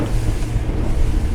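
A Highfield 560 Sport motorboat roars steadily through rough wake, with heavy wind buffeting and the hull thumping over waves.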